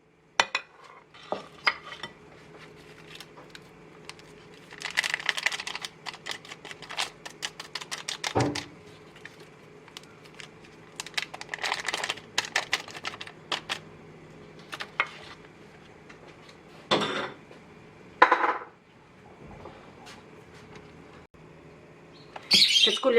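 Cocoa being stirred into Black Forest cake batter in a bowl, with intermittent bursts of utensil scraping and clinking separated by quieter gaps and a few sharp knocks, and no speech.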